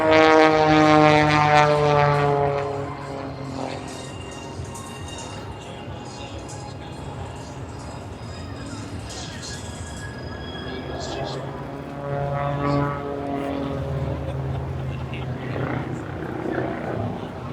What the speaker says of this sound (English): this incredible helicopter. Rigid titanium rotor system allows it to roll.